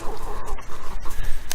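Chickens cluck and murmur at close range while pecking at watermelon flesh on a homestead, short soft calls overlapping in a busy, continuous stream.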